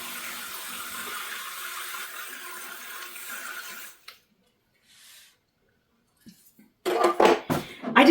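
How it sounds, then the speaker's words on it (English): Cold water being poured and NMN powder stirred into a glass, with steady pouring and running water, then a near-silent pause before a burst of sharp spoon-against-glass clinks at the end. "I'm just going to mix it in so it dissolves a little bit faster."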